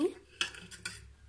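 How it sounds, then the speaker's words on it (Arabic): A spoon clinks and scrapes against a pot while butter, sugar, vanilla and cream are stirred together, giving a few quick, close metallic taps in a quiet room. "وهقلبهم كده كلهم كويس، الزبدة والسكر والفانيليا والكريمة اللباني"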